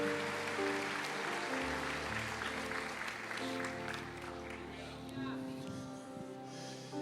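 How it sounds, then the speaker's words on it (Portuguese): Church congregation applauding during a worship service, soft scattered clapping heard faintly beneath sustained organ or keyboard chords and a voice speaking over the music. "Igreja, aplauda ao Senhor."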